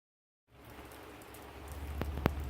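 Rain falling on a tarp stretched over a roof under construction, a steady dense patter that starts suddenly and builds slightly, with a couple of sharper drops near the end and no voices.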